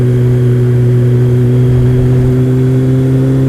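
A Kawasaki ZX-12R motorcycle engine holds a loud, steady droning hum on the road, with strong even tones and a rush of wind noise.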